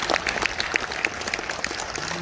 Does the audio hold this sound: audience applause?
yes